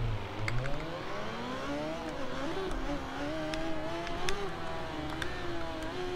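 An MV Agusta F4 Tamburini 1000cc superbike in a racing video game, ridden in a Milan sport bike challenge: a continuous engine whine rising and falling through gear changes, steady and fairly loud, with no talking.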